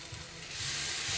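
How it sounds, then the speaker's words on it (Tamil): Masala frying in hot oil in a pan, sautéed for fish curry, gives a steady close hiss that swells louder partway through. Softer low scraping sounds come and go underneath, and no one speaks. "ஸோ இந்த பச்சை வாசனை போட வரைக்கும் இதை வதக்கிக்கலாம்."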